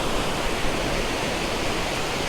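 Continuous rushing white-noise roar of Lumb Hole Waterfall flowing in autumn, dense and steady, fairly close, with no voices.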